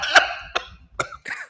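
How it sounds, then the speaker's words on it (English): A person coughs four times in quick succession, close and loud, with short pauses between each harsh burst. "It sounds like somebody coughing right now."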